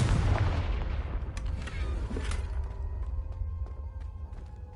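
A Confringo fire spell blast from Hogwarts Legacy erupts with a loud booming impact at the start, then settles into a rumbling low roar with scattered crackles as it fades.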